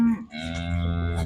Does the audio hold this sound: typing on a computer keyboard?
no